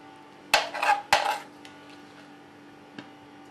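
Polenta is spooned onto a plate: two quick clattering scrapes of utensil against dish close together, then a faint tap a couple of seconds later over a quiet kitchen hum.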